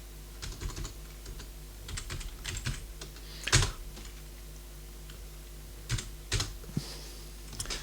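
Quick bursts of keystrokes on a computer keyboard while entering a sudo upgrade command in Linux, clicking in short irregular clusters with pauses between, close and fairly quiet over a low steady hum.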